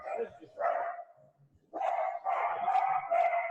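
A pet dog barks indoors in a home office, two or three loud, close barks with brief gaps between them, heard alone without talk.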